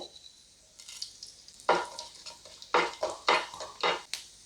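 Fenugreek and cumin fry on low flame in a pan with a soft sizzle, punctuated by a quick series of sharp, close scraping stirs.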